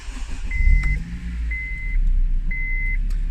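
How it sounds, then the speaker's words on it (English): A Honda Civic Type-R engine idles close by with a low, steady rumble, while three evenly spaced electronic beeps sound over it. "we'll get the engine running,"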